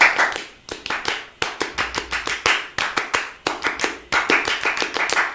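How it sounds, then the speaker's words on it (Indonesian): A group performs an Indonesian Pramuka scout clap in a brisk rhythmic pattern, sharp hand claps repeating in quick bursts with short pauses, loud and close. "Dua kali tepuk pramuka."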